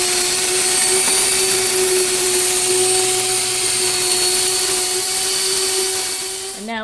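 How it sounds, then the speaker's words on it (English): A grain mill grinding wheat into fine flour gives off a steady, loud mechanical whine with a constant motor hum, running without a break before slowing slightly at the very end. "it takes a long time to just wait for it to get so fine, or it could go really quick if you just could tolerate the coarse ground"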